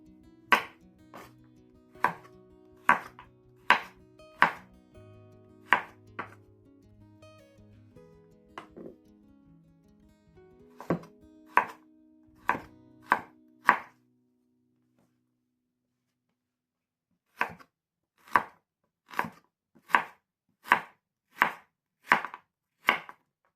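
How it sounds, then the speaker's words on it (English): A knife chops turnips into sticks on a board in crisp, evenly spaced strikes. Two rapid runs are separated by a brief pause, and a faint low hum sits underneath. "You're just going to slice them up and cut them up just like that."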